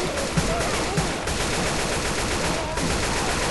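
Rapid gunfire from the Left 4 Dead 2 video game, a dense continuous crackle of shots filling the whole stretch, loud and steady with a couple of sharper bursts standing out near the start.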